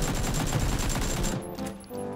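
Dense automatic gunfire from the video game PUBG crackles in rapid, continuous bursts, loud and close, then cuts off abruptly near the end.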